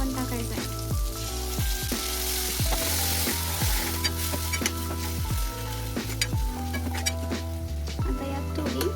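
Green peas and green masala hit hot oil in a pan, giving a continuous loud sizzle with repeated sharp clinks and scrapes from stirring, steady throughout with no talking.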